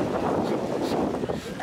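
Strong wind buffets the microphone at a beach during a Seattle heat wave, a dense, steady roar of gusting noise lasting under two seconds, close and loud.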